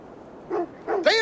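A dog in Assassin's Creed Valhalla gives two or three short, close barks and yips in quick succession, rising into a brief whiny bark at the end.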